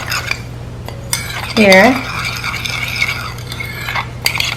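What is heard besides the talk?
stirring seeds with almond milk and stevia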